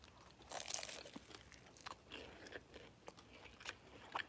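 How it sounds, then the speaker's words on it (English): Close biting and chewing of a crunchy shrimp roll with a crispy exterior: a sharp crunch early, then a series of wet, crackling chews spread across the clip, with no talking. "Let's taste this shrimp roll."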